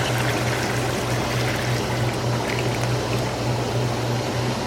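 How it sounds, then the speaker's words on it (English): Dead Sea salt goes into warm water in a hot tub's filter well with the jets running, a loud steady rushing pour of water over a constant low pump hum. "I'm going to add my Dead Sea Salt in my warm water right into the filter well."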